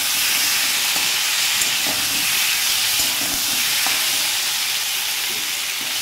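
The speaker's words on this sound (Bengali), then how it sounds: "এবার আমি এটা দিয়ে ভালো করে আর একটু কষিয়ে নেব।" Chopped tomatoes and ginger paste frying in a pan as the base for a rohu fish curry with turnip, a loud steady sizzle with faint scraping and stirring clicks over it.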